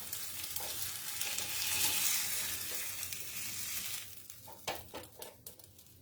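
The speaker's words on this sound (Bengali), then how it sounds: "আমার পনির ভাজা হয়ে গেছে" Paneer frying in a pan for a mixed vegetable paneer dish gives a steady, fairly loud sizzle across most of the stretch, then ends in a few sharp scraping and clinking knocks near the end as the pieces are lifted out.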